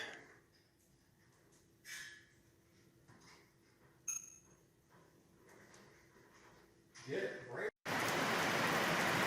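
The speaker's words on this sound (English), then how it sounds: "if you ever wondered what it sounds like in a tin building when it's raining" Quiet, muffled pattering gives way to a loud, steady roar of heavy rain drumming on a metal roof, filling the space.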